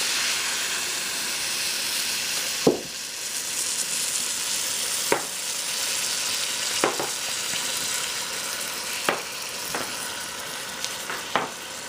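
Milk poured into a hot pan for Amrat Paak sets off a steady soft sizzle and hiss, broken by a few sharp clinks and scrapes of stirring.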